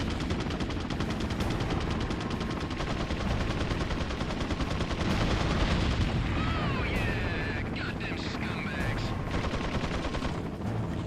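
Rapid gunfire in Resident Evil 4 on PS2 rattles in a loud, dense, unbroken barrage for the whole stretch, along with other game sounds.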